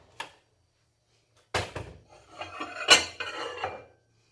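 A microwave door is opened after a cheese-topped red bean bread finishes baking: a short click, then a pause before a run of clattering, clunking handling noises, fairly close, with no talking.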